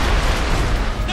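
A heavy airstrike explosion on a bridge in Red Faction Armageddon gives a loud, dense, rumbling roar of blasts and booming debris that fills the whole moment.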